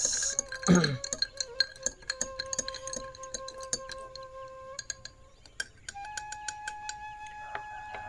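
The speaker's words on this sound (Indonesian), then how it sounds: "Aku mau aduk dulu guys, biar campur." A spoon stirring an iced grass jelly drink in a glass: a long run of bright, ringing clinks and ticks against the glass, quick and irregular, heard close with no voices.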